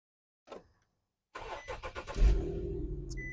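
A car at a dealer auction starts up with a faint click, then the starter cranks in a few quick bursts before the engine catches, rumbles loudly and settles into a steady idle.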